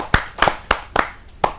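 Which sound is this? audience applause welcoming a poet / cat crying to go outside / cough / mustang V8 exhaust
audience applause welcoming a poet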